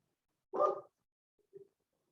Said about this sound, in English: I don't know if you can hear my unhappy neighbor's dog.